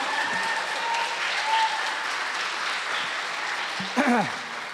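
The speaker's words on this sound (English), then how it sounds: "give her a round of applause" Steady applause from a high school spring band concert audience for Mrs. Springfield, a continuous wash of clapping throughout with a brief voice near the end.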